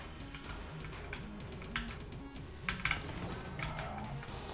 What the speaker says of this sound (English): I'm gonna try this with mouse and keyboard.